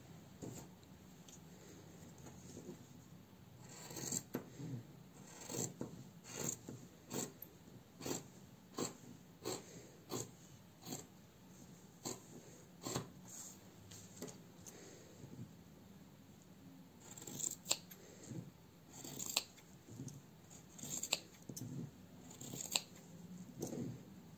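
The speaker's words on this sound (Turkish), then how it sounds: "Şimdi ben bunu kesiyorum." Scissors cutting fabric for a stand-up collar, a steady run of quick crisp snips in close succession, faint and close with no talking.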